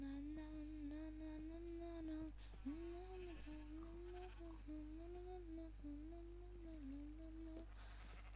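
Sheep bleating repeatedly in the Minecraft video game during shearing, a run of short tonal cries in steady succession, fairly clear over a constant low background hum.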